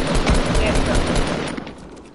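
Dense automatic gunfire in an online shooter video game blasts in a continuous loud burst, with players talking over it, then thins out slightly toward the end.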